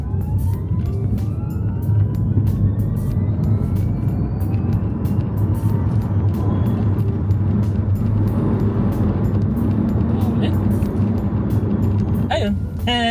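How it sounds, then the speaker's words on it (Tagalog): A 2025 VinFast VF 5 electric car accelerating at full throttle, a loud steady cabin rumble of road and wind noise with a faint rising electric whine, plus a brief clatter near the end. "So full throttle ko. Diretso ko lang,"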